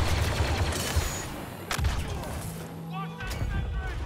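Blaster and weapon fire in a Star Wars Battlefront 2 Galactic Assault match on Yavin 4, a dense, continuous fusillade with booming thuds, heard alongside talking.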